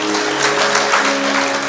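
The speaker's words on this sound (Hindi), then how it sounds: "एक बार ताली जरूर बनती है।" An audience at a devotional story recital claps together, a dense, even burst of applause layered over steady musical drone tones.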